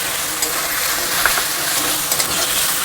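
Onion paste, ginger paste and chopped tomato frying in a pan for a Bengali jackfruit curry, giving a steady, close hiss of sizzling with a few faint stirring clicks, no voices.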